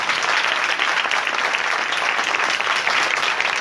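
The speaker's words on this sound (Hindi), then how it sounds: "आए यीशु के लिए जोरदार तालियां।" Audience at an outdoor street revival meeting claps in loud, dense, continuous applause, a steady wash of many hands with no voices standing out.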